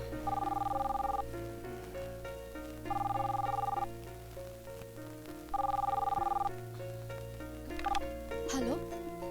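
A telephone rings for a call to a wife, with three evenly spaced electronic ring bursts over soft background music, followed by a brief rising tone.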